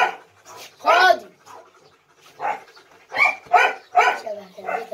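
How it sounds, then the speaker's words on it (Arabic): A dog barks and yelps in a series of short, close bursts, with some panting and whimpering between them, while people talk nearby. "كلب ده احلى من كلبتك"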